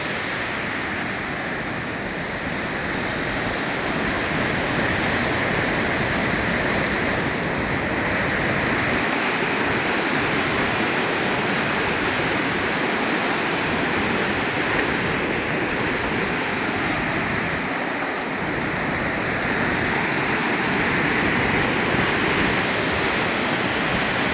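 The rain-swollen Godavari river rushes in a loud, steady roar of churning waves and turbulent water that continues unbroken throughout.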